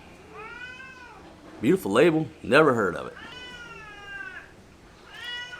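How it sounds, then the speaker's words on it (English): Several cats meow repeatedly in the background, with drawn-out harmonic cries at the start, middle and end, while someone speaks briefly in the foreground. "And you'll have to deal with those cats in the background."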